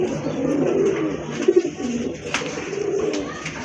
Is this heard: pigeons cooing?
yes